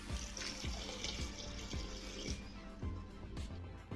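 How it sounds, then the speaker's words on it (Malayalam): Water poured into a pressure cooker holding broken wheat for payasam, a steady continuous splashing pour that runs the whole time with a few knocks, close and fairly loud, no talking. "നമുക്കിതിലേക്ക് വേവാൻ ആവശ്യമായ കുറച്ച് വെള്ളം കൂടി ചേർത്ത് കൊടുക്കാം."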